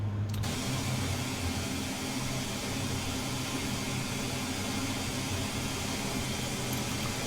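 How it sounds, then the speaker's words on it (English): Airbus A400M propeller engines drone inside the cockpit in Flight Simulator 2024, a steady, moderately loud broadband hum with a low rumbling undertone that holds constant throughout. "But it is a large aircraft, and well, props are not necessarily as loud as jet engines"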